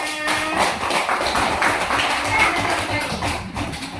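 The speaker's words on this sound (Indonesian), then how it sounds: "terima kasih tepuk tangannya" Schoolchildren in a classroom give a continuous spatter of light, rapid claps at moderate volume, mixed with chatter from the room.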